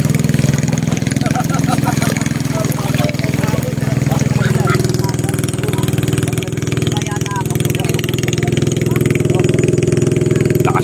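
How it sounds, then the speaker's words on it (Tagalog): A motorcycle engine runs with a steady, loud rumbling drone throughout, with voices talking over it outdoors. "Lakas yung motor nun."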